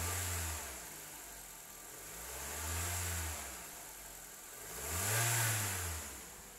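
A 2015 Honda Civic LX engine runs near the microphone, idling with several slow revs that swell and fall back, the third rise the loudest.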